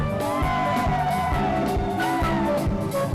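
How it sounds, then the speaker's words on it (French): A church crowd in Cameroon shouting and cheering loudly and continuously in thanksgiving and acclamation, many voices blending into a dense roar. "Des cris d'action de grâce"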